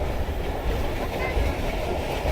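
An HGMU-30 diesel locomotive hauls a passenger train along rails in Pakistan near Pakka Anna station, giving a steady, close, continuous rumble and rolling roar with no break throughout.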